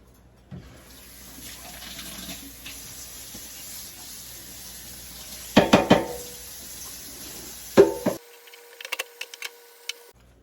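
Kitchen sink tap water running steadily while broccoli cooking water is drained, with a couple of louder splashing bursts and clatter near the end, close and moderately loud.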